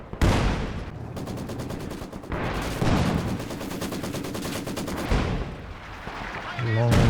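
Long-range artillery barrage in the Company of Heroes 2 game, with heavy booming impacts and rapid rattling bursts arriving in waves, loud and dense, punctuated by sharper blasts.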